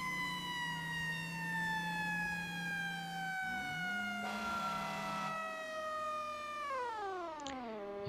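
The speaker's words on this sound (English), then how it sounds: "It's an older Q siren on this truck." An older mechanical Q siren on a fire truck in the video game EmergeNYC wails loudly and steadily, with a long sustained rising tone. The pitch dips partway through and winds down at the end.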